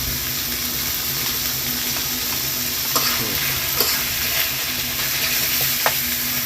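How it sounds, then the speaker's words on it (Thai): Curry paste and chicken sizzle loudly in a pan during Thai chicken curry cooking, a continuous close frying hiss broken by a few scraping stirs of a utensil. "ผัดพริกแกงแล้วแทรกลงไปเนื้อไก่นะฮะ"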